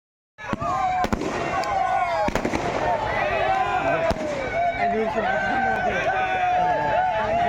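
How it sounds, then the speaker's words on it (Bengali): Hundreds of colourful fireworks set off around a field for the opening of a short-pitch cricket tournament in Anwara, with sharp bangs and crackles over a steady, dense roar of bursts and crowd noise. "টুর্নামেন্টের উদ্বোধন উপলক্ষে মাঠের চারপাশে বর্ণিল সাজে সাজানো হয়, ফুটানো ইয়েডে নানান রঙের শত শত আতশবাজি।"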